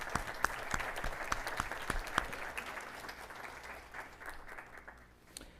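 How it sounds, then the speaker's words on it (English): Applause from an audience at a farmworker health presentation, a fairly distant round of clapping with a few distinct individual claps early on that thins and fades toward the end. "Let's give a big round of applause to Luz and the team at TODEC."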